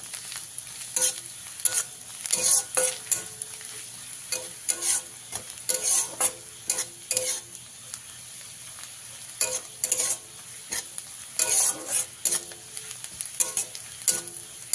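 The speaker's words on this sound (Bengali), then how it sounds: "কালো জিরেটা দিয়ে পেঁয়াজের সঙ্গে একটু ভাজা ভাজা করে নিতে হবে।" Chopped onion and black cumin seeds fry in a pan, a soft sizzle broken by repeated scraping strokes of a spatula stirring in uneven bursts, close and without speech.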